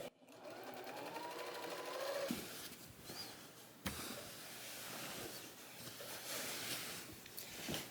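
A home sewing machine free-motion quilting a meandering stitch runs in steady, quiet bursts, its motor whirring with brief pauses and a couple of sharp clicks as the quilt is shifted.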